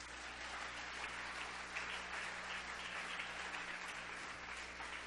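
A church congregation applauding at an evening service, a dense, continuous wash of clapping that stays even throughout, heard from some distance and fairly quiet.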